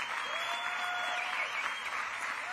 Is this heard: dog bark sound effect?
no